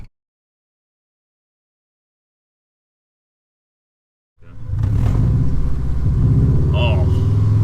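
A Subaru-engined Fiat 500 'Fubaru' with 170hp: silence, then an abrupt, loud, deep engine rumble that holds steady to the end, with voices talking over it.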